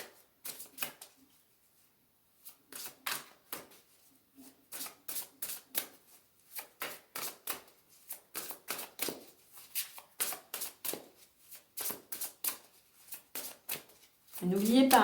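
Playing cards are shuffled in a string of quick riffling bursts close up, with a soft steady rhythm and short pauses between them, while a person talks.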